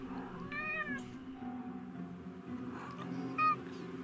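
A blue winged cat in the video game Forspoken meows twice, clear drawn-out mews about three seconds apart over a low steady game background hum.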